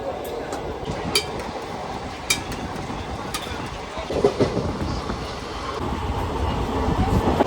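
A train rumbles along steadily with a low rolling roar and occasional clacks. Voices talk over it.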